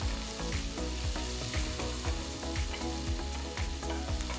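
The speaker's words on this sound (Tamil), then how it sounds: "அடுத்து 1 வெங்காயம் பொடியை நறுக்கினதை சேர்த்து 1 நிமிஷத்துக்கு வதக்குங்க." Chopped onion sautéing in hot oil with cumin and mustard seeds for tomato semiya, a steady loud close sizzle with rhythmic stirring scrapes throughout, no voices.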